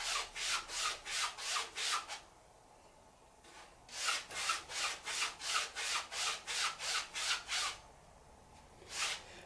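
Steel straight razor stropped on an old linen strop, a series of bright, even swishing strokes in a steady back-and-forth rhythm with a short pause midway and one last stroke, close and quiet, with no talking.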